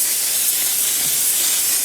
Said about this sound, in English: I'm going to first go on to this One Size Until Dawn setting spray just to kind of help melt everything